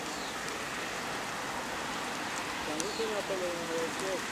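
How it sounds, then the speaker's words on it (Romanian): Steady rain falls outdoors with a constant, even hiss of drops that fills the whole clip, and a faint voice-like tone rises briefly near the end. "E ploaie bună"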